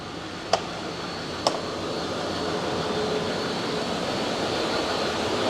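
Land Rover Discovery Td5 diesel engine with a skimmed cylinder head running steadily on a dyno, a loud continuous broadband roar and whine, with two sharp clicks near the start.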